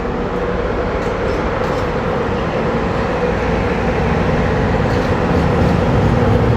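Steady, loud rumble of a Romanian train in motion, a dense low roar with rattling that continues evenly throughout.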